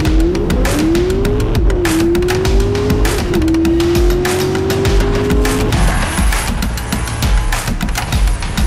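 Inline six engine of a 2009 Chevrolet Trailblazer LT, the 4.2 liter Atlas with a turbo added, revving up and down in a loud close sweep, then settling into a rough, busy running sound.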